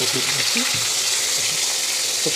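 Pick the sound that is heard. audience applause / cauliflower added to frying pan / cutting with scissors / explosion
cauliflower added to frying pan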